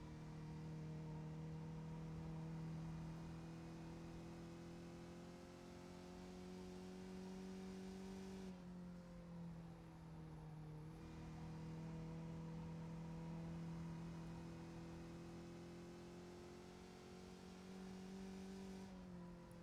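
Onboard Skip Barber race car at Myrtle Beach, engine droning steadily at high revs with pitch dipping and rising as it works through corners, continuous and close with no talk.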